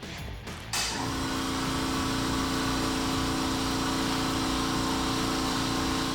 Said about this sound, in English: Compare that to Estwing's 5-gallon compressor, which runs at just 68 dBA.